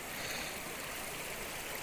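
A river in a village flows with a steady, soft broadband rush of water, continuous and fairly faint, with no voices present.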